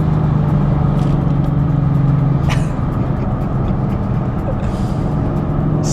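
A 1000 BHP Ford Mustang Dark Horse accelerating with its wheels spinning in third gear gives a loud, steady roar of engine and road noise that holds for the full stretch, with no talk.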